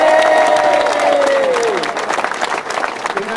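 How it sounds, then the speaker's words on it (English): An audience at a Queen's Diamond Jubilee honoured-citizens ceremony in Lyme Regis claps steadily for an honoured citizen, a dense, even patter with a tonal voice or music drifting through it before the applause thins out. "Ladies and gentlemen, your applause please for Mike Higgs."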